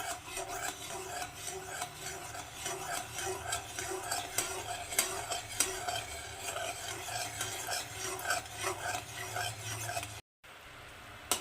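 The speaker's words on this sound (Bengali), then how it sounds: "তো এটাকে আরেকটু আমি ফুটিয়ে ঘন করে নেব" Sugar syrup boiling and being stirred in a pan for homemade karonda cherry candy, a steady bubbling sizzle with scraping stir strokes throughout, close and continuous, no talk.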